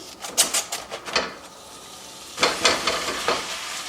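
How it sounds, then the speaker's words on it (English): A pound of hamburger browning in a preheated cast iron skillet, with soft sizzling and a series of scraping, stirring clicks, close and fairly quiet, in two bursts with a brief lull between. "I've already heated up our cast iron skillet. I'm gonna put 1 pound of hamburger in."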